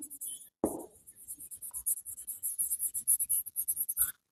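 A pen scratches across paper, writing out an accounting journal narration in quick, close strokes after a brief tap, with no voice over it.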